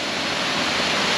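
Hin Lad Waterfall on Samui gives off a steady, close rush of falling water, a dense even roar with no voices over it.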